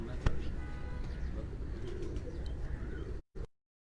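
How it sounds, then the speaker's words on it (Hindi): Pigeons coo on a rooftop in a steady, close, murmuring stretch with faint voices behind them, cutting off abruptly near the end. "कबूतर है"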